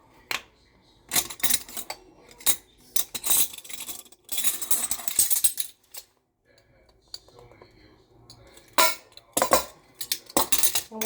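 Apple and pecan cobbler ingredients, including nutmeg, tossed together in a bowl, giving bursts of clinking and scraping clatter that come and go between quiet gaps, close and fairly loud.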